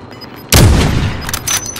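Call of Duty: Modern Warfare Warzone gunfire, a single sudden loud shot bursting from quiet, ringing out briefly, followed by a few fainter cracks in the background.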